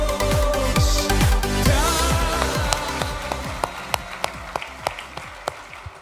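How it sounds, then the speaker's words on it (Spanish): A church congregation applauds loudly with dense, sustained clapping that gradually thins out to a few scattered, separate claps, with faint voices underneath. "Recibamos con un fuerte aplauso la palabra de Dios."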